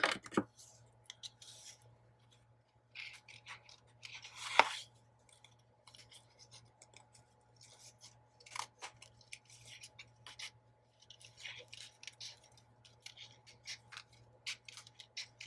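Scissors snip through paper for a seahorse and seashell themed Happy Planner spread, giving scattered short crisp cuts and rustles at close range over a steady low hum, with no talking.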